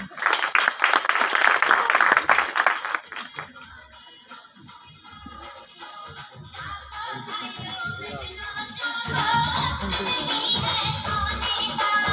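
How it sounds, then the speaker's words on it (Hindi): A crowd at an Ambedkar Jayanti celebration in Dadiya Rampura claps together in a dense burst for about three seconds, then the applause fades into quieter crowd noise and background sound. "संजू जी के लिए और केके जी सर के लिए एक बार तालियां हो जाए।"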